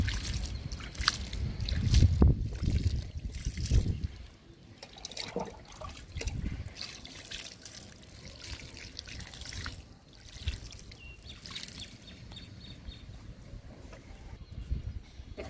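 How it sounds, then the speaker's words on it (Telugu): Water is poured from a container onto soil freshly sown with ridge gourd and bitter gourd seeds, a close trickling and splashing that is heavier at first and then runs softer and patchier. "వాటర్ పోస్తున్నాను."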